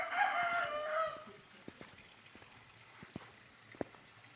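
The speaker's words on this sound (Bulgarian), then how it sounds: "Петели, пауни." A rooster lets out one loud, drawn-out crow up close, with peacocks kept nearby, followed by quiet outdoor stillness broken by a few faint clicks and taps.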